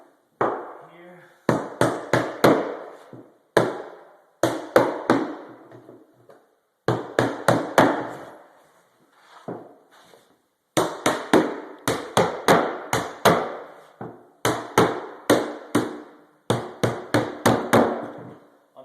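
A 24-ounce hammer drives nails into carpet tack strip along baseboards, striking in quick, sharp clusters of several blows with short pauses between. The hammering is close and loud.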